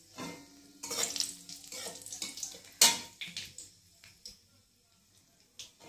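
Dried red chillies and black cumin seeds hit hot oil in a wok for tempering, giving short bursts of sizzle and crackle with spoon stirring and clinks, fairly quiet, under a voice.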